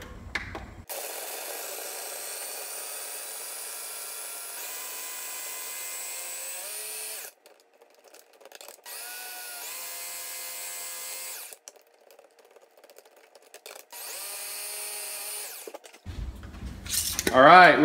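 A food processor purees purple sweet potato (ube) into vegan nice cream, its loud, steady motor whine running in long bursts that stop abruptly, with short quiet gaps between runs.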